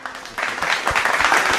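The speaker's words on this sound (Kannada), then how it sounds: "ನಮ್ಮ ನವಿಲಿಗೂ ಚಪ್ಪಾಳೆ ಬರ್ಬೇಕಪ್ಪ" Audience applause for a singer's performance on a Kannada televised singing reality show, a dense crackle of many hands clapping that swells after a quiet start and holds steady for a short burst.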